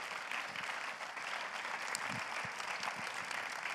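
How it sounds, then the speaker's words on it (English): Steady round of applause from a conference audience for the team and volunteers, dense even clapping held at a moderate distance for several seconds. "Let's give the whole team, all the volunteers, a round of applause."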